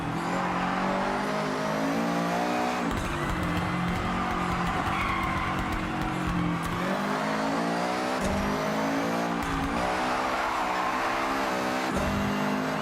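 A race car in Forza Horizon 6 roars under steady engine drone while its tires squeal and scrub for grip on tarmac, loud and continuous with shifting pitch throughout.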